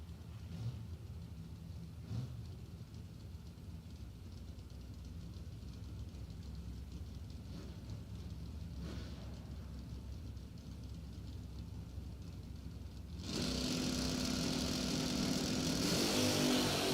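Drag racing at the American DoorSlammer Nationals, a Phase 2 Performance Camaro against Michael Needham's E&E Trucking Chevrolet S10, heard as a steady distant engine roar that swells abruptly louder and brighter near the end as the cars launch.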